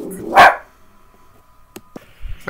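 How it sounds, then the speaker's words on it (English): A single loud, close dog bark rings out, followed by quieter scattered clicks and thumps in an otherwise quiet room. "my dog is barking."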